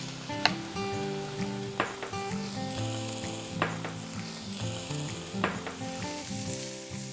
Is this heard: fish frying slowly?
yes